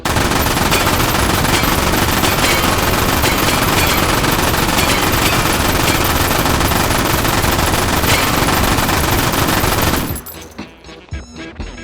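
A World War II light machine gun fires in the H3VR virtual reality game, one long unbroken burst of very rapid, loud gunfire lasting about ten seconds, then a short silence with faint clatter.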